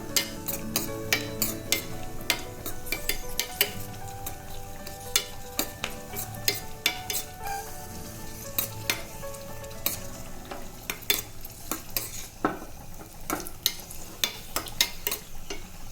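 Cashew nuts roasting in a pan while being stirred, with repeated sharp clicks and scrapes of a spoon against the metal over a low, steady sizzle, close and without speech.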